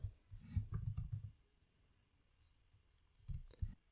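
Computer keyboard keys clacking while code is written, a quick burst of typing followed by a pause and then a few more keystrokes, close and clear with no talk.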